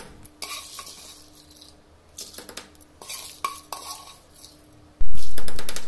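A utensil scrapes and clanks in a pan while ajwain-leaf chutney ingredients fry on low flame, with irregular stirring knocks and a light sizzle, ending in a loud burst of hissing noise.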